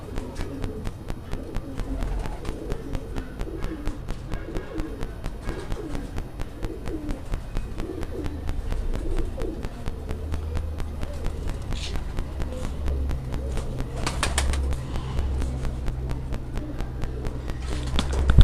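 Pigeons coo in a steady, soft repeating rhythm close by, with faint shuffling and a brief wing flutter near the end, no talk.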